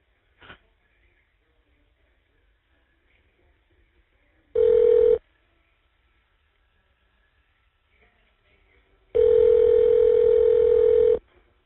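Touch-tone dialing on a prison phone call: two loud, sustained tone bursts sound alone after near silence, the second lasting about two seconds, with a faint click at the start.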